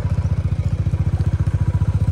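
A motorcycle engine runs just after a cold start outside a hotel, a close, loud, rapid, even thumping idle that pulses steadily throughout, with no talking.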